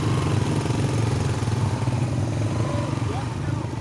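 Motorbikes ride along a slippery mountain road, a steady close engine drone with a faint throb that eases slightly toward the end, while someone talks over it.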